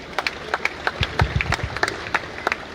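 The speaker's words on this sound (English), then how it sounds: "Please, can we give them a round of applause?" Scattered, irregular clapping from a small part of an audience at a Nigerian Navy ceremonial sunset and award night, moderately near, with sharp individual claps and low thuds but no full ovation.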